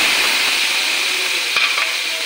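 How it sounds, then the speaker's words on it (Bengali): A spice mix drops into onions frying in a pan, giving a loud, steady hiss of sizzling oil with a brief soft thud as the spices land and light stirring beneath. "এখন মশলাটা ঢেলে দেব।"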